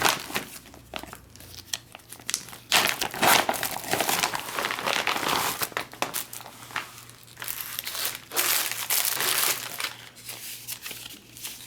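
An XMRE cheese tortellini entree (Menu No. 3, 2014) in its newer sleeve packaging crinkles and crumples loudly up close, in irregular bursts of rustling plastic with brief pauses, and no one speaks.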